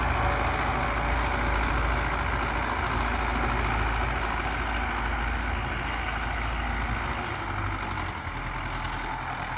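An MTZ tractor engine runs loud and close during field cultivation, a constant rough drone that holds steady throughout with no voices.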